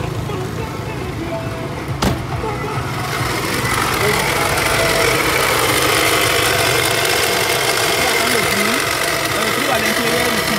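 A Toyota Corolla with a charging fault idles and runs steadily, a continuous engine drone with a whining, rattling alternator noise laid over it, while someone talks over the running engine.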